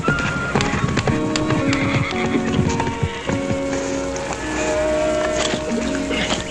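A horse whinnies while its hooves clop in a quick steady rhythm, loud and close, with music and other busy sound from a Western scene layered underneath.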